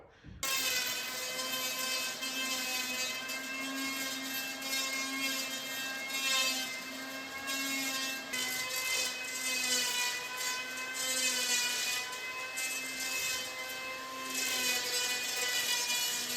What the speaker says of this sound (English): my brother Mark lent me this hand planer, power planer, which is great